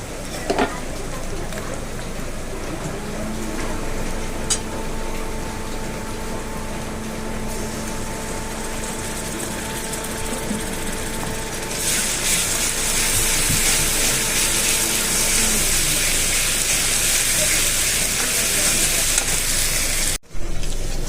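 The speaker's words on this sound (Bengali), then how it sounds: "এখন কুচনো পেঁয়াজ দিয়ে একটু ভাজা ভাজা করে নিচ্ছি" Chopped onions fry in butter and oil in a home kitchen, giving a steady, fairly loud sizzle over a low hum that grows brighter and denser toward the end.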